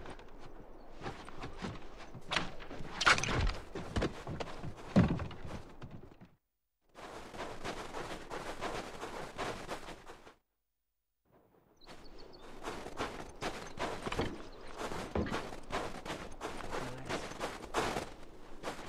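Rifle fire and scattered footsteps in The Last of Us multiplayer match play in irregular bursts, fairly faint, broken by two short stretches of near silence.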